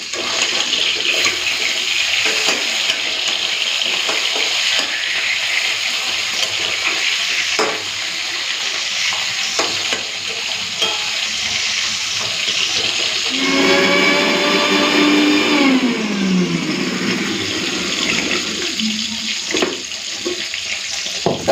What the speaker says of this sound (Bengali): তো মিক্সিতে বেটে দিলাম মশলাটা